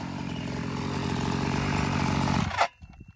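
Small nitro engine of a MAX-T RC truck with a melted spur gear runs loud and steady, then cuts off abruptly as the drivetrain locks up, leaving a few faint clunks.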